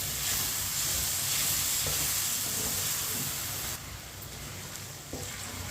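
Tomatoes and green chillies sizzle and fry in a pan, cooking down for arvi masala curry; a steady, fairly loud broadband hiss runs throughout, easing slightly partway, with no talking.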